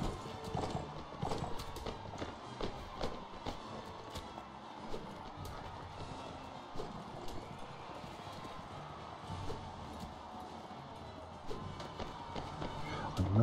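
Horses galloping in the video game Mount & Blade Warband during a tournament, rapid clip-clop hoofbeats in a busy, cluttered mix, faint overall.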